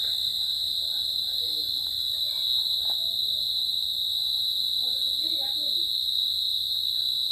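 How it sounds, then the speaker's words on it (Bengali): Crickets chirp in a steady, dense, continuous trill around a Bangladeshi home courtyard in Sylhet on a moonlit autumn night, with faint scattered sounds of other night insects underneath. "চারিদিকে ঝিঝি পোকার ডাক।"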